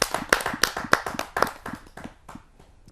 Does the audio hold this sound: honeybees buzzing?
no